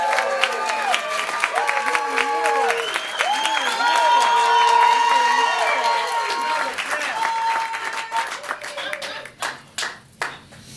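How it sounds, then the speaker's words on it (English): Audience at a live sword swallowing show claps and cheers in a sustained burst of applause, with a performer's voice talking over it before the clapping thins to a few scattered claps at the end. "I'm going to take my applause before I do it."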